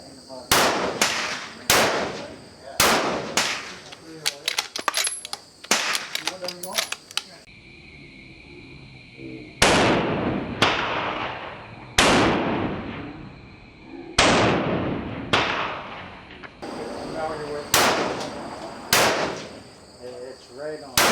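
Rifle shots fired through a series of muzzle brakes, from a VG6 to no brake to an Area 419 Hellfire, ring out as loud sharp cracks in quick strings with short gaps between them, each with a ringing tail.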